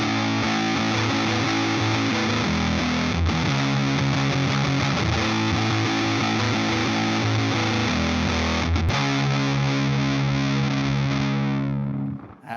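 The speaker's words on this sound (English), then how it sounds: "my favorite mode on the 77 Fuzz Blender is this switch here, which instead of scooping out your mid-range, adds them back in" Electric guitar run through a Supercool 77 Fuzz Blender fuzz pedal with its mids-boost switch engaged, playing dense, saturated sustained chords at steady loudness with a brief break midway, then ringing out and cutting off at the end.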